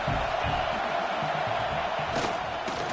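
A college football video game's stadium crowd roars continuously in the closing minutes, a dense, loud wash of cheering with a couple of sharper shouts near the end.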